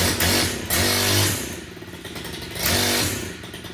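Stihl FC91 gas-powered lawn edger engine sputtering and revving up in short bursts, up close and fairly loud, with a rough idle between the surges and a clattering mechanical edge.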